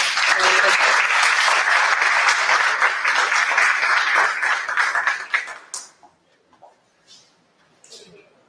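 An audience applauds loudly and steadily in honour of an absent professor at a social technologies catalogue launch, the clapping fading out after about six seconds into a quiet room with a few faint sounds.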